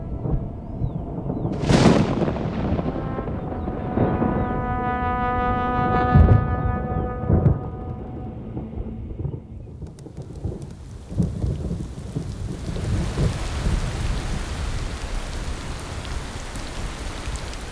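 Thunderstorm with rain on the Serengeti plains: loud rolling thunder cracks over steady rainfall, with several booming peaks and a continuous wash of rain throughout.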